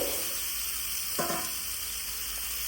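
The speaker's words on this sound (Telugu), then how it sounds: "ఇప్పుడు మనం మ్యారినేట్ చేసి పెట్టుకున్న చికెన్ మొత్తం దీంట్లోకి యాడ్ చేయాలి" Marinated chicken dropped into hot oil with fried onions for chicken curry, a short burst of sizzling partway through over a steady background hiss, no talking.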